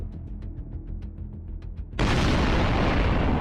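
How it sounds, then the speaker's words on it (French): A Javelin missile strikes a tank, first a run of sharp ticking over a low rumble, then a sudden, loud, sustained blast that fills the sound and holds to the end. "le Javelin frappe le dernier char de la colonne. L'impact est dévastateur, une explosion instantanée"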